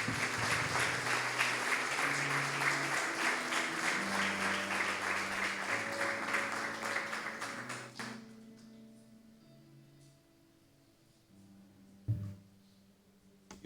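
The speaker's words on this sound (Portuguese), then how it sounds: "Você pode dar uma salva de palmas para Jesus?" A church congregation claps for Jesus, loud rhythmic applause over sustained organ or keyboard chords, then the clapping stops abruptly after about eight seconds, leaving soft music and a single knock.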